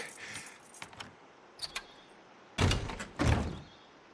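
A locked door being tried in the video game Days Gone: a few light rattles of the handle, then two heavy thuds as the door is shoved against its lock, nearby and without speech.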